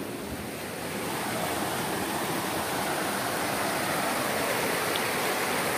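A large stream in the Brazilian Northeast flows over rocks, a dense, steady rushing wash that stays loud and even throughout with no voices.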